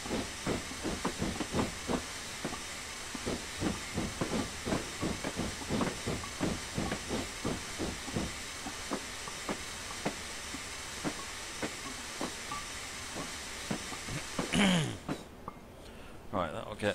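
Steam locomotive in Train Simulator 2016 on the Standing Hill Railway, a steady hiss with rhythmic chuffing pulses throughout, someone talking over it, ending in a brief louder burst.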